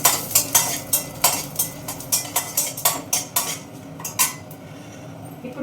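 Chana dal, urad dal and a whole dried red chilli frying in hot oil for a tempering, with a spoon or spatula repeatedly clinking against the pan in a steady rhythm and a soft sizzle underneath, close and with no talking.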